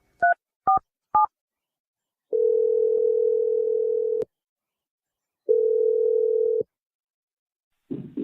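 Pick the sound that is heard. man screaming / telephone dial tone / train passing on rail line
telephone dial tone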